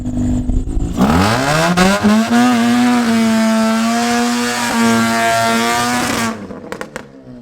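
A car engine holds a loud, sustained high rev during a burnout, rising sharply at the start and dropping away near the end, close and dominant with no speech.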